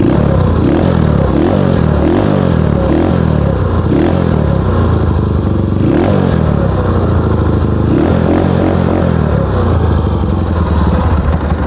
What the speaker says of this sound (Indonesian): suara dari Yamaha Scorpio ciri khas banget dengan mesin 225